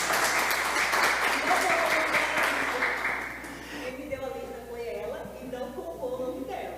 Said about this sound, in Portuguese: Merece uma salva de palmas também, né?